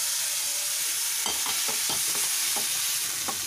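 Ground masala paste with tomato and turmeric sautéing in a pan: a loud, constant hiss of frying, with a run of scraping strokes from a stirring spoon in the second half.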